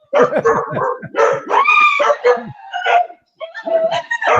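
Several dogs barking and yelping loudly and close by, continuous bursts with short gaps, heard alone during a live broadcast interview.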